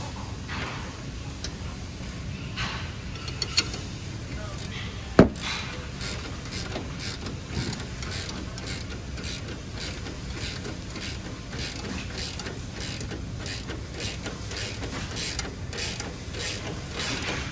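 Ratchet tightening the upper control arm bolts on a 2005-2021 Toyota in a garage, a steady run of quick metallic clicks repeating close by with one sharp knock early on, no talk.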